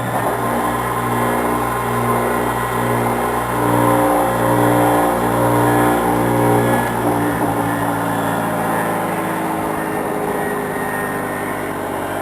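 A belt sander in beautiful condition runs on a wooden workbench, a continuous motor drone with a pulsing vibration hum from the bench, steady and fairly loud with no talking.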